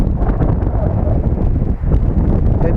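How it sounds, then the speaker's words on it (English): Strong outdoor wind buffets a microphone in a steady, loud rumbling roar that lasts throughout, with no other clear sounds over it. "It's just really windy, so I cannot really tell."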